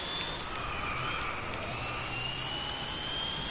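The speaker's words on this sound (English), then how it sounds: "Do not like the sound of this car at all." Sustained engine drone from a car in the Driveclub racing video game, a steady loud tone that slowly rises in pitch with no voices over it.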